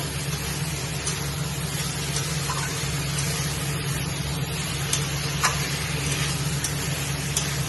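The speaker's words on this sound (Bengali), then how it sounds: "ভালো করে একটু কষিয়ে নিতে হবে" Pointed gourd and soybean curry sautéing in a pan, a steady soft sizzle with faint occasional clicks of stirring, continuous and moderately quiet, with no talking.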